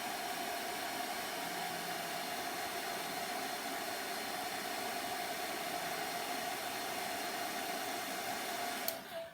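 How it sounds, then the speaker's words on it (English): Steady, loud blowing roar of a hair dryer running continuously with a constant whine, drying gold leaf adhesive to tack, cutting off abruptly near the end. "I'm just gonna let that come to tack real fast with my blow dryer."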